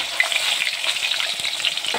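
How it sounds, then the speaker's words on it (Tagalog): Tilapia fries in hot oil in a pan with a steady, dense crackling sizzle, close and continuous with small popping bursts. "piniprito muna yan guys"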